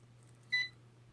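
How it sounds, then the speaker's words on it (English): A Hubsan H111D 5.8GHz FPV nano quadcopter gives a single short electronic beep on binding, clear and brief over a quiet low hum. "and then you hear a beep, and then that means you're bound."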